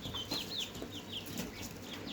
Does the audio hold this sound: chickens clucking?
yes